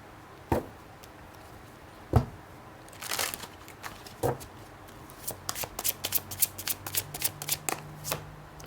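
Tarot cards being shuffled by hand, a few separate riffles and slaps at first, then a fast run of crisp flicks toward the end, close and fairly loud with no talking.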